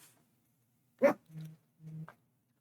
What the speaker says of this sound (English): Oh look, the dog came back. Yo, let me at him. he's so barkative right now.